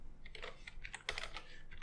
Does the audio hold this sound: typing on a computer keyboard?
yes